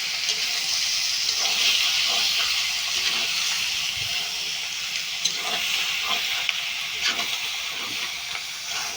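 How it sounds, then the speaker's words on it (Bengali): Chicken meat frying with onions in a pan gives a steady, close sizzle and hiss with scattered crackles and scraping stirs, running continuously for several seconds. "মাংসটা ধুয়ে রেখেছিলাম দিয়ে একটু কষলাম"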